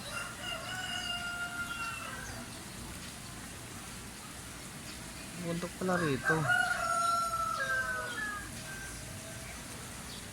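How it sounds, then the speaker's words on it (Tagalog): A rooster crows loudly nearby in the mountainous countryside of Laguna, Philippines, its call rising and falling, with other roosters crowing farther off over steady rain; a person speaks briefly. "Tilawak pa yung mga manok."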